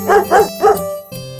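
An animated cartoon puppy on a farm, in a children's song, gives three quick, close barks in a row, followed by a softer low whine.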